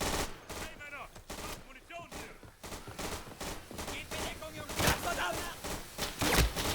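Dense gunfire, likely machine guns, from the World War II shooter Day of Infamy on its Dunkirk map: rapid overlapping bursts and shots that run continuously and grow louder and heavier toward the end.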